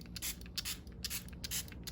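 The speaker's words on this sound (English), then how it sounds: "And I have a little spray bottle." Small plastic spray bottle filled with water misting over a mixed-media artwork, giving several quick, soft hissing spritzes in a loose rhythm, faint and close.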